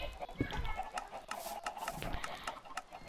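Chickens cluck in bursts in Minecraft against a steady background hum, with short sharp clicks scattered throughout.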